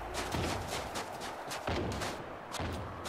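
Gunfire in the World War Z video game, a steady stream of moderately loud shots and bursts with a dense, continuous combat roar underneath and no voices.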